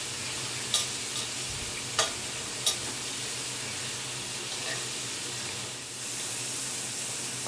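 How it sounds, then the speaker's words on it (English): Squid sizzles steadily on a hot cooking surface, a constant soft frying hiss with a few sharp clicks and taps early on, heard alone without talk. "it's sizzling squid, not grilled squid"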